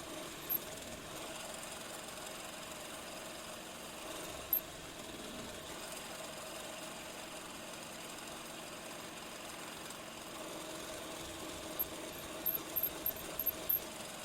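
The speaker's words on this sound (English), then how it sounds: "So I shall cut 3/8 hole into this 1 inch circle" A 3/8-inch hole is cut into a one-inch wooden circle while building a dowel maker: a faint, steady machine drone runs throughout with a few sharp ticks and brief rattles near the end.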